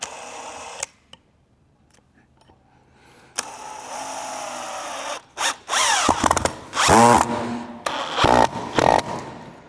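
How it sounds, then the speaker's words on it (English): DeWalt entry-level drill on speed 3 driving 100 mm screws into hardwood: bursts of whirring motor and grinding, starting after a quiet stretch, then louder rising whines and stuttering slips near the end, close and loud. "we're going speed 3, the drill, 100 mil screws into the hardwood."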